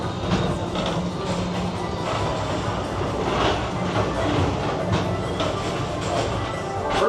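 A Disney PeopleMover ride train rolls steadily along its elevated track, a continuous mid-level rumble and rattle with a faint voice far under it.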